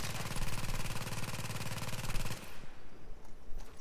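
A video game turret firing in a long rapid stream of evenly spaced shots for over two seconds, then stopping abruptly and leaving quieter game noise behind.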